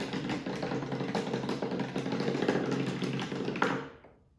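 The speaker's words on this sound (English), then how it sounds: "I have this really fun toy. It's a rainbow, and let's knock the ball down" A ball knocked down a rainbow toy makes a dense, continuous rattling clatter of small beads or pieces tumbling for about four seconds. It stays fairly loud throughout, then dies away quickly at the end.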